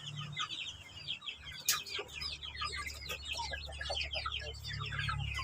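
Native chickens clucking at a farm, a busy cluster of repeated clucks and chatter from several birds at mid distance, with a sharp bright click early on and a low background hum.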